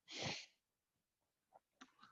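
One sharp, breathy sneeze bursts out close to the mic, followed by quiet sniffs and a faint breath.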